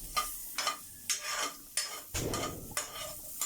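Onions sautéing in a little oil in a home pan, a soft sizzle broken by regular scraping strokes of a spoon stirring every half second or so.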